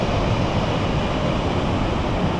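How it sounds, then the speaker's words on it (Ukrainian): A waterfall in the mountains near Zakopane, a dense, constant roar of rushing water filling the whole span, loud and close with no voices over it. "От ми дійшли до водоспаду, на такий водоспад."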